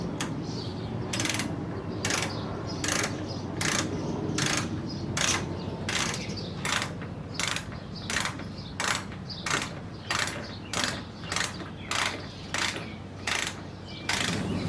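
A ratchet with a 5mm hex bit tightens a bolt during an A/C condenser replacement on a 10th-generation Honda Civic, giving a close, steady train of about twenty evenly spaced ratcheting clicks over a low background hum.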